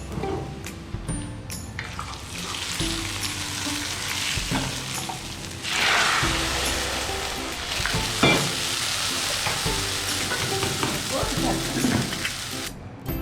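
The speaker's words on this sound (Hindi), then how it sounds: "हमने इसमें डालना है कड़ी पत्ता और जीरा, मिक्स किया और चालू कर देंगे बघार" Curry leaves and cumin sizzling in hot tempering oil for a pakora curry, a loud continuous crackling fry with stirring scrapes and occasional pops, close up and without pause.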